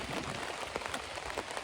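Steady rain falls on a tent at a trail campsite during a long hike, a dense, continuous patter with scattered louder drops striking the fabric up close, no voices present.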